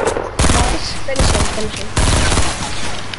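Three loud, close bursts of rapid burst-rifle fire in a Fortnite match, evenly spaced with short gaps between them, while players talk over the shots.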